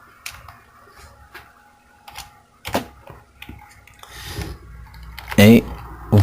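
Computer keyboard typing a chart title in Excel 2016: scattered light key clicks in uneven bursts, close, with speech over them.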